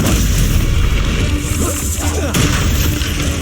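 A Confringo blast spell explodes in the Hogwarts Legacy video game, a loud booming burst over dense battle noise and a game voice, with a second impact rolling in near the end.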